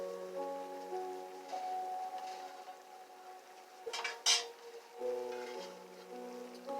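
A spoon stirs stewed rib tips in a pot with a few faint metallic clinks and scrapes bunched together, set against a quiet steady background tone.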